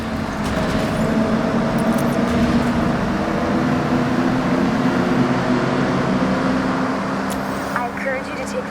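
Car engine reverberating through a long, rounded tunnel in Forza Horizon 6, a dense, steady droning roar echoing off curved walls at constant loudness for the whole stretch.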